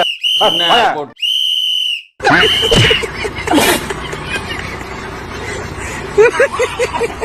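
A loud shrill whistle blown in two long blasts and a third, with crowd chatter and road traffic from passing buses filling the gaps afterward.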